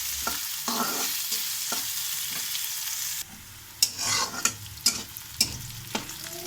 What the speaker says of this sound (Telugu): లైట్ గోల్డ్ కలర్ వచ్చేలా ఫ్రై చేసుకోవాలి ఆనియన్.